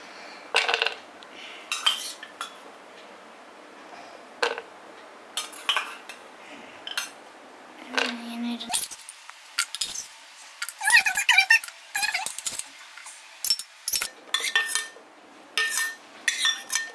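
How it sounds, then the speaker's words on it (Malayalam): Coconut pieces clink into a metal pan while preparing unniyappam, a series of close, bright metallic clatters and scrapes with quiet gaps between them. "ആദ്യമായി നമ്മൾ കുറച്ച് തേങ്ങക്കൊത്ത് നമുക്ക് ഇടണം. ഇട്ട് ഈ പാത്രത്തിലേക്ക് തന്നെ ഇടുന്നു നമ്മൾ."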